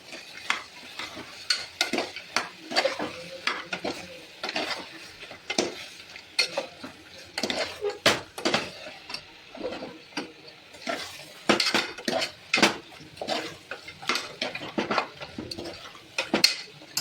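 Coriander powder is stirred into a chicken curry with repeated metal spoon scrapes and clinks against the pot, in an uneven rhythm over a faint sizzle, close and with no voices.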